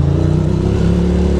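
A car engine droning and revving steadily from inside the car as it drives, a loud, close, continuous low hum with a faint rise in pitch over a short moment.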